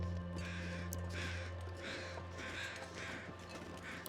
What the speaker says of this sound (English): we got more birds